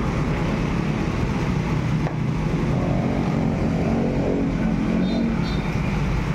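A Mio Soul i125 motorcycle engine revs steadily and loudly close by, holding a continuous droning rumble for the whole stretch with only a brief dip midway, no voices present.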